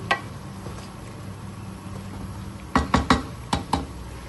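Pot and utensil clatter while ingredients for achar gosht fry in a pot: a low background hiss, then a quick run of several sharp metallic clinks and scrapes close by near the end.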